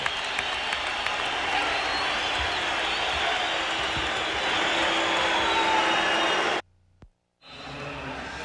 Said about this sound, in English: This crowd at McNichols loving this.